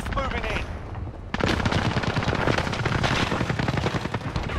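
Dense automatic gunfire in the Call of Duty: Modern Warfare Resurgence battle royale game, loud and continuous after a quieter opening, with rapid overlapping bursts.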